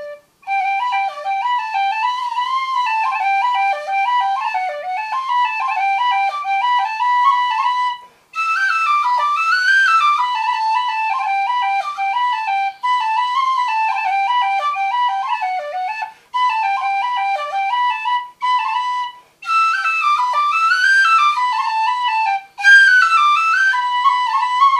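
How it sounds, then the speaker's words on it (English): An ebony tin-style whistle plays a lively folk melody alone, with clear ornamented high notes running in phrases separated by brief breath pauses, close and steady in volume. "One thing I have to get used to with the ebony whistle"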